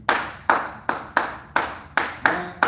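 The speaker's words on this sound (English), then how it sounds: "I'm gonna clap it first, and then you copy me" Hands clap the Tresillo rhythm alone, eight crisp, close claps falling in an uneven, repeating long-long-short pattern over a few seconds.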